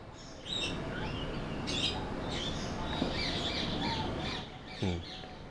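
Several birds call and chirp over a steady outdoor hiss in Kampong Lorong Buangkok, a village in Singapore, with scattered tweets and a brief louder call near the end.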